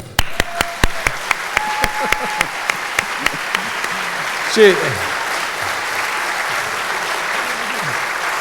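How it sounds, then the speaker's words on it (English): Loud audience applause fills an awards banquet hall, sustained, dense clapping under a few sharp, regularly spaced knocks at the start, carrying steadily to the end. "if you applaud really loudly right now"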